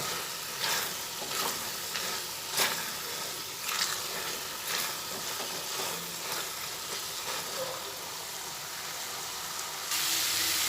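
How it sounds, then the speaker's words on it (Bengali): Chicken ghugni with split green chillies sautés in a pan with a steady, close sizzle and hiss throughout. Periodic scraping stirs break through the frying noise, and no one speaks. "কাঁচা লঙ্কাগুলো দুটো খণ্ড করে দিচ্ছি আবার ভালোভাবে কষিয়ে নিচ্ছি এইভাবে কিছুক্ষণ কষিয়ে নেব"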